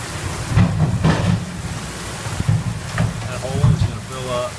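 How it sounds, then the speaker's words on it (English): Rain pours steadily in a broad wash of noise beside a barn, water running off its side, while someone talks intermittently over it, with wind buffeting the microphone. "It is pouring down rain."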